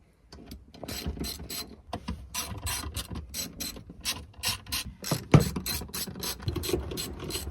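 Repeated ratcheting clicks from a ratchet undoing Torx T40 bolts on a Vauxhall Zafira B seat, close and fairly loud, in quick irregular bursts with a few metallic knocks and no talking.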